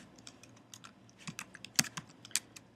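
Quiet, irregular clicking of keys on a computer keyboard, close by, with a few sharper taps standing out among the lighter keystrokes.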